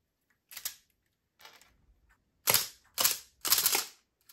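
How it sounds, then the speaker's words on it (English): LEGO rubber-band shotgun pistol firing: a series of sharp, clacking mechanical snaps, two lighter ones spaced apart and then three louder bursts in quick succession, close and dry against silence. "So we got ourselves a shotgun pistol."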